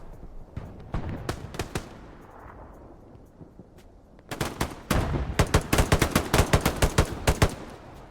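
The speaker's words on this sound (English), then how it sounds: "artillery's brutal." Artillery fire in the WWII shooter Hell Let Loose during a competitive match, scattered booms early, then a dense run of loud repeated blasts and shots packed close together near the end.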